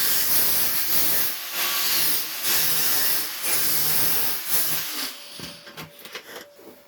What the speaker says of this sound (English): get the die grinder in there, just grind it out until it comes to clean metal